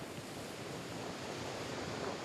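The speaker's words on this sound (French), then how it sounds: "Lorsque les vagues déferlent" Steady broadband roar of ocean surf, a continuous wash of waves with no distinct breaks, fairly faint.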